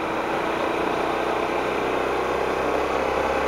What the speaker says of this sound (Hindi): सो चलते हैं गाइस साइड में लेते हैं बाइक को,